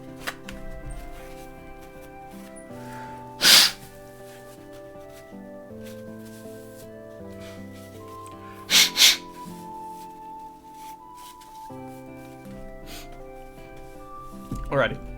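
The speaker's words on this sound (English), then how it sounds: "Hold on, I gotta blow my nose 1 second." Someone blows their nose in a few short, loud, snorting bursts, one single and one doubled, spaced apart over steady background game music.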